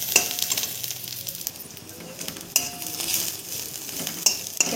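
Grated coconut and a few cashews frying with browned onion in a pan, a steady sizzle with a spoon stirring and scraping now and then, close and continuous.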